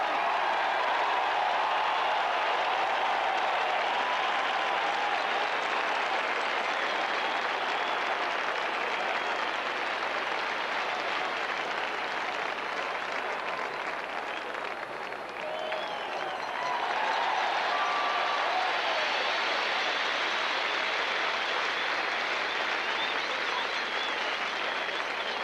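Stadium crowd at a 1983 World Series game applauding Hall of Famers Brooks Robinson and Frank Robinson, a dense, steady roar of clapping and cheering that fills the whole stretch, dipping briefly midway before swelling again.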